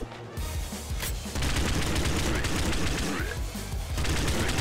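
Dense gunfire bursts from the top-down shooter Nuclear Throne as the player takes a hit, a loud continuous barrage of rapid shots and impacts filling the whole stretch with no pause.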